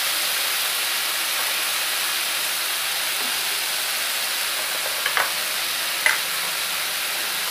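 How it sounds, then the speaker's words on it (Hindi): Paneer frying in a pan over full flame, a continuous bright sizzling hiss with a couple of faint clinks near the end and no voices. "फुल आंच पे इसको ऐसे फ्राई कर लेंगे"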